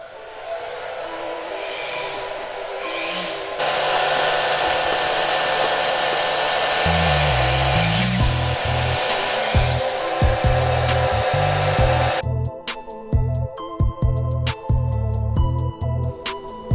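A DIY web shooter sprays fake spider web over old tools, a steady loud blowing hiss like a hair dryer running continuously, joined midway by low rumbling and then choppy sputtering bursts toward the end.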